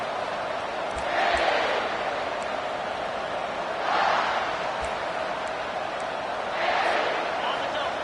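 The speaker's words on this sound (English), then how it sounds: "This crowd, full throat, splitting the eardrums" A packed football stadium crowd at Oklahoma versus South Carolina roars in a steady loud wash, swelling into three big surges of cheering at regular intervals after a touchdown kickoff.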